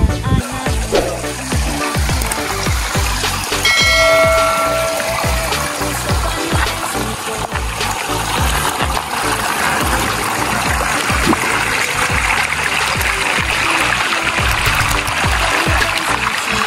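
Water runs steadily at Tropilok Pools & Resort in Pagbilao, a loud, continuous stream close by that holds for the whole stretch with no pause, alone except for a brief tonal sound near the start.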